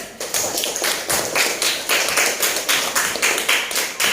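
An audience claps at a classroom teaching session, a brisk run of close, sharp individual claps and taps in a fairly regular rhythm with no talk over them.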